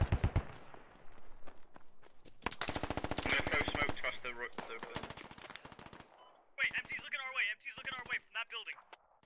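Gunfire in the military shooter game Squad: bursts of automatic fire crackle in long rapid strings, loud and near, with shorter bursts following after a brief pause and voices over radio chatter in between.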